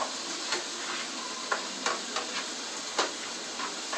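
Onion and a cheesy ingredient sauteing in olive oil in a pan, a steady soft sizzle with a few faint stirring taps scattered through, close and alone without talk.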